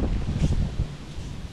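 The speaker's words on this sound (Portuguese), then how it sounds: "E ó, só o vento." Wind blows outdoors in a park above a river, a steady rough buffeting that gusts briefly, close to the microphone with no talking.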